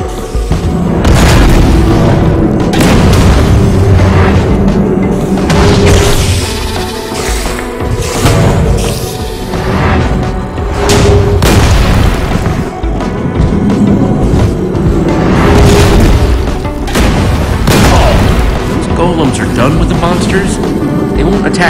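Repeated booming explosions from the Minecraft Story Mode video game, loud and rumbling over a busy game soundtrack, with characters talking throughout.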